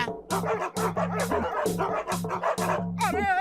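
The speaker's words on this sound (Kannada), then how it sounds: "ಅಯ್ಯೋ ಪತ್ಲು, ಕಾಪಾಡೋ, ಈ ನಾಯಿಗಳನ್ನ ಓಡಿಸೋ." Cartoon dogs bark repeatedly in quick, rhythmic bursts, loud and close, with a high yelping cry at the end.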